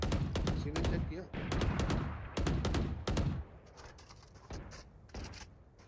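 Rapid bursts of gunfire in a Valorant match, several sharp close volleys in the first three seconds, then sparser, fainter shots trailing off.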